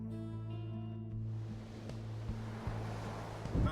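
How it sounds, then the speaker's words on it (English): Water and waves lapping around a boat in the video game Pyre, a steady washing surf with soft wind-like hiss, joined by a few faint thuds, moderately quiet and heard alone. "I hear water."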